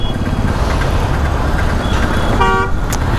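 A brief car horn toots once amid steady, loud city road traffic noise.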